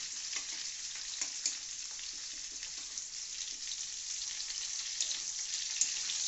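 Chilli chicken with green chillies being stirred in a hot pan, continuous sizzling with soft scraping and clacking of a spoon at irregular intervals, close and alone without voices.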